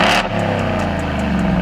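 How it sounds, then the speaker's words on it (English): A 2022 two-wheel-drive, naturally aspirated Ford F-150 with a cold air intake and a Corsa Performance 3-inch catback exhaust that dumps on the side ahead of the rear tire, revving loud and close in a steady, throaty rumble with a short opening blip. "I have a Corsa Performance 3-inch catback. It dumps on the side in front of the rear tire."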